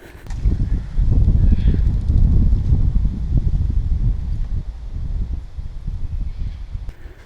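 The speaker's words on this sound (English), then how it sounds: "I'm holding onto my hat because it's got pretty windy." Strong wind on an exposed cliff in the Blue Mountains, Australia, buffets the microphone in a steady low roar, gusting louder for a few seconds and then easing slightly.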